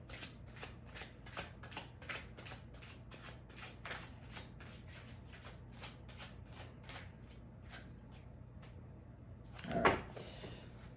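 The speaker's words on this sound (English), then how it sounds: "I'm gonna give it another shuffle." Tarot cards riffle and shuffle in a quick run of crisp, rhythmic flutters, followed by a pause and a final louder shuffle near the end.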